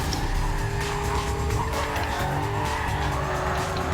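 A Corvette races at high speed in Need for Speed: Carbon, its engine a steady loud drone with repeated tire squeals and skids throughout.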